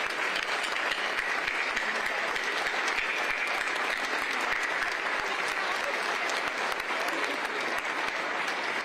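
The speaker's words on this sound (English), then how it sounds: "let us give you a round of applause when you stand" A crowd at the Fulton County State of the County address applauds steadily and loudly throughout, a dense wash of clapping that neither builds nor fades.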